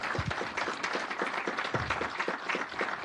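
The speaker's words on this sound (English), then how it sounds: "Can y'all give her a round of applause?" An audience claps for Dr. Davidson at a Denver Planning Board meeting, a steady moderate round of applause lasting the whole moment with no voices over it.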